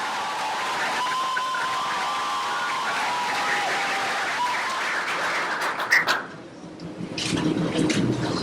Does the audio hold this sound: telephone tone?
no